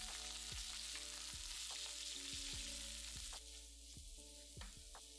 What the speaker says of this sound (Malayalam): 1 ടേബിൾ സ്പൂൺ വെളിച്ചെണ്ണ ഒഴിച്ച് ചൂടാകുമ്പോൾ ചതച്ചു വെച്ചിരിക്കുന്ന ചെറിയ ഉള്ളി, കുറച്ച് കറിവേപ്പില ഇത്രയും ഇട്ട് മൂപ്പിക്കുക